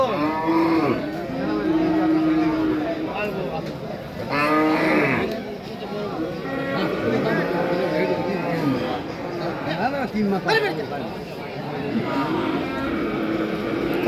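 Cattle moo repeatedly at a weekly village market in Bangladesh, long nasal calls at varied distances among a busy crowd of talking people and passing engine noise.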